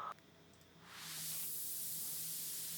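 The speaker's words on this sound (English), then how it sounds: "I have some white noise." A white noise effect from an electronic music production swells up after a brief quiet start into a loud, broad, steady hiss that holds to the end.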